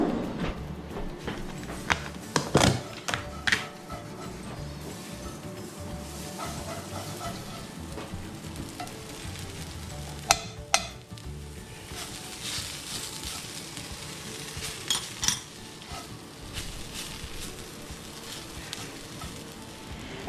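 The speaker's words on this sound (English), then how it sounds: "The potatoes are also sticking to the bottom a little bit, but you can just kind of scrape those off." Potatoes fry in butter in a skillet, a soft steady sizzle broken by sharp scraping clicks and knocks as a utensil scrapes stuck bits off the pan bottom, close and moderately loud.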